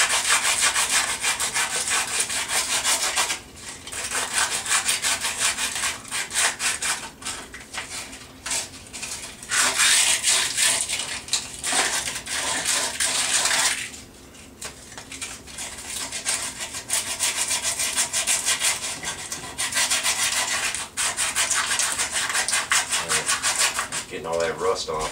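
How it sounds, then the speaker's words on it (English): Sandpaper rubs rust off a metal pulley on a homemade motorbike build in continuous, rapid back-and-forth scratching strokes, close and fairly loud, broken by a few brief pauses. "Now, with your sandpaper, go at it like that."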